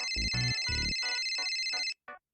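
A phone rings with a steady electronic tone for about two seconds and then cuts off. Music-like thuds and a voice sound underneath it.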